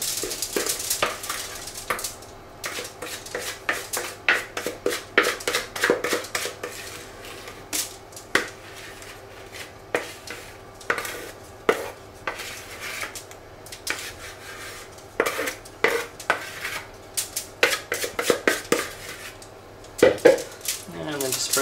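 Brownie batter stirred in a bowl in a home kitchen, with repeated scraping and clinking of a utensil against the bowl in uneven bursts, close and fairly loud.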